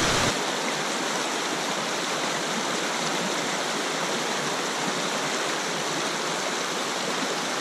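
River water rushes over rocks in a steady, loud, broadband roar, heard up close and alone for several seconds without any voices.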